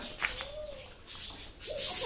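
Pigeons coo softly at an open bird fair beside the Rajmoni pyramid in Sonargaon, Narayanganj, with birds roaming free. Low, rolling coos come in two or three short bursts, mid-distance, with faint chirps and a murmur of voices around them.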